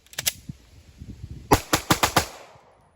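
A Glock pistol with a G-Flex trigger fires in rapid bursts: a quick string of sharp shots, a pause with faint clatter, then a second tight burst of about six cracks.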